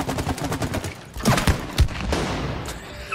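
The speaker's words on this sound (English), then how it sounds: "Shooting targets!" Rapid gunfire from a target-shooting minigame in It Takes Two, with quick bursts of shots followed by several sharper, louder reports and a rattling tail, with no talking over it.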